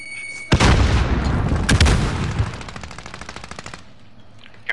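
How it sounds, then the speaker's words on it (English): Gunfire and an explosion during a Call of Duty Warzone trios match: a loud close blast opens rapid bursts of machine-gun fire that rattle on for several seconds before trailing off, with no talking. "Grenade out!"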